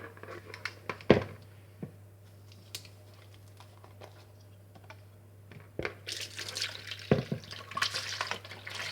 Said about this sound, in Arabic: واحد الانيه غادي ندير الحليب ديالي